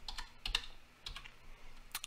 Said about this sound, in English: I'm typing one-handed